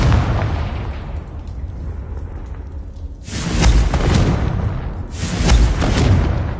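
Two loud, close Confringo fire-blast spell explosions in Hogwarts Legacy burst out a couple of seconds apart, each a broad roaring whoosh with a deep boom, following a quieter stretch of low game rumble.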